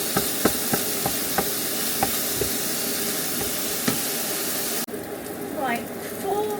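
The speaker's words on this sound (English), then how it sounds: "What we're doing here is we're trying to get our minced beef brown" Minced beef browning in a hot pan gives a steady broadband sizzle and hiss, with sharp clicks as it is stirred; the frying noise drops away near the end.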